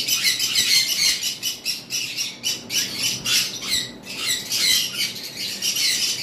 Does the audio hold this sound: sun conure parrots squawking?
yes